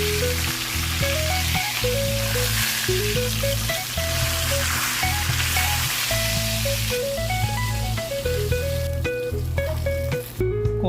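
Tilapia frying in cooking oil, a steady close sizzle and crackle running under bright background music, with no voices.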